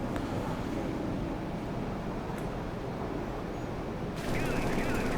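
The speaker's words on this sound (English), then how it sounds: "Whoa, guns and missiles, that's pretty sick." Gunfire and missile launches in the naval combat game Sea Power, a dense, continuous roar of bursts and blasts with a sharper, louder surge in the final second.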